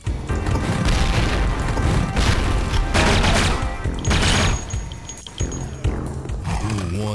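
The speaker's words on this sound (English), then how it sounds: "just fire your rockets through these cells, listen for the delicious, squishy, moist sounds" Rockets fired through alien cells in the Duke Nukem 3D game, Pigsty level, a dense run of loud booming blasts and crashing impacts with wet squelching debris, back to back with little pause.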